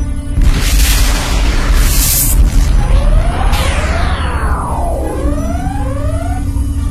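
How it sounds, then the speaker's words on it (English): A methane-fueled explosion in a sci-fi space battle booms loudly and continuously, with roaring broadband rumble, crackling bursts and descending whistling sweeps as debris and energy fade out over several seconds. "Methane-fueled explosion."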